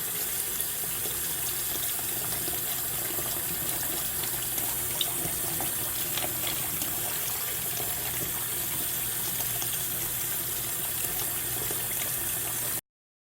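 Tap water runs steadily into a sink while skin care tools are washed, a constant close splashing stream that continues unbroken until it cuts off abruptly, no talking.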